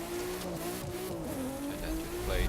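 A car races in the video game The Crew 2, its engine droning steadily with a sharp tire squeal rising near the end, moderately loud.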